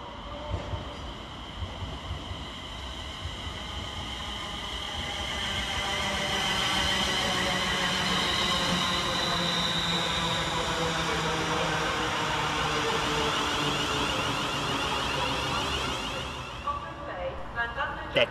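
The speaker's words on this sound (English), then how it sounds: "Next to arrive at Stafford Station, 350371, working the 1757 London North Western Railway service from Birmingham New Street to Crewe via Stoke-on-Trent." A London Northwestern Railway class 350 electric multiple unit pulls into Stafford station with a long, swelling rumble of wheels and motors and some squeal, fading out as it slows to a stop.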